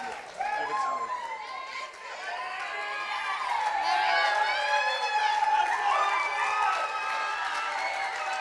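Wedding reception guests break into applause and cheering for the maid of honor, a dense, sustained wash of clapping with high whoops and shouts rising and swelling over several seconds, steady and moderately near.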